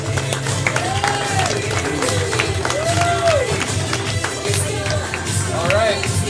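A crowd at a main event cheers and claps continuously as players come back in, a dense, steady roar of applause and voices with no single voice standing out.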